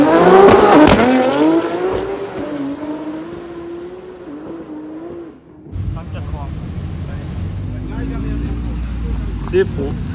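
A race car on a circuit, billed as the fastest one there, revs hard with a rising engine note, then settles into a lower rumble with faint tire noise, while a voice talks over it.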